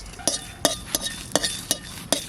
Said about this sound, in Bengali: শুকনো খোলায় একটু মশলা ভাজবো। লঙ্কা আর তেজপাতাটা আগে ভেজে নেব